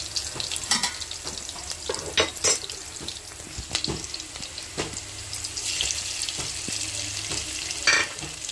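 Onions frying in a pan with ground masala, curry leaves and turmeric, a close, constant sizzle broken by sharp clinks and scrapes of a spoon against the pan, with a brief watery splash near the end; no talking.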